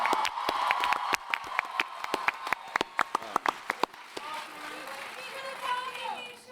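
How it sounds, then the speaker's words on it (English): Scattered, sharp claps ring out at a Comic Con panel in San Diego, loud individual hand claps over a crowd's murmur and cheering, with a person talking before and after. "We need to give you applause."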